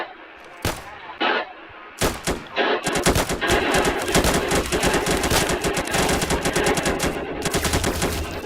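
Rapid bursts of automatic gunfire in a Roblox bodycam-style shooter as a player guns down a teammate, starting with a few isolated shots and then turning into a sustained, loud, close stream of fire.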